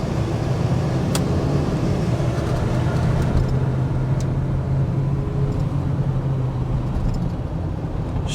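Steady low rumble of a 1990 Chevrolet Suburban with a 454 cubic-inch engine rolling along at an easy pace, heard from inside with constant road and engine drone and a few faint clicks.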